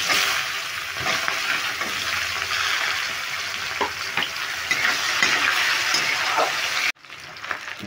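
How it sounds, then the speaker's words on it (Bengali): Chopped onions fry in hot oil in a pan with green chilli, a dense, steady sizzle and crackle with occasional stirring knocks, cutting off abruptly near the end. "দেখো পেঁয়াজটা আমি হালকা লালচে করে ভেজে নিলাম"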